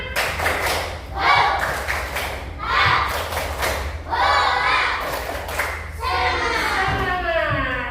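A school class performs a rhythmic spirit clap in bursts, loud grouped claps and thumps with chanted voices, repeating in roughly four patterned waves close by.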